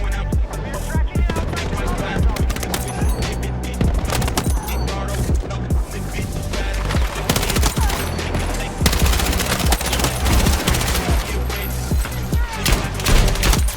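Kord 6P67 machine gun fire in Battlefield 6 rattles in loud, rapid sustained bursts with brief pauses between strings of shots, close and dense, over in-game combat noise.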